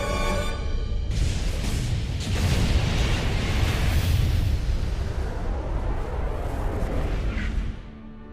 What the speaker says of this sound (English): Oh yeah, we need the big explosion